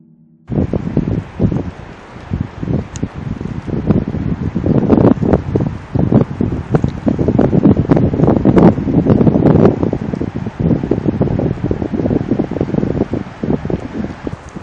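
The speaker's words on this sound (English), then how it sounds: "the wind's blowing pretty strong" Strong, chilly wind gusts outdoors, loud and continuous, buffeting the microphone and roaring with rustling through most of the span.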